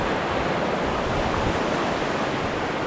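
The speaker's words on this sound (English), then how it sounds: "just crossing the creek." A creek in the Alaskan wilderness rushes steadily and loudly nearby as hikers cross it, a constant broadband wash of flowing water with no voices.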